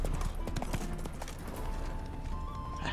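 Horse hooves galloping in the video game The Witcher 3, rapid rhythmic clip-clop close up and steady throughout, over game ambience with a faint tone near the end.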